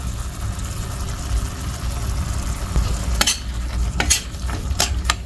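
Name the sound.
spices being stirred and sautéed in a pan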